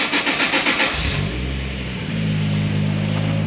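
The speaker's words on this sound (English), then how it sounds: "So we've got some nice lumpy idle now." A car engine tuned for a lumpy, cammed idle, apparently from a 2JZ-powered Supra or S13. It rises with a brief rev and then settles into a loud, close, steady loping idle.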